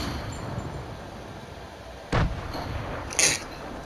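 Gunfire aimed at a shark in the video game Fortnite: two sharp, loud shots about a second apart stand out against background game ambience.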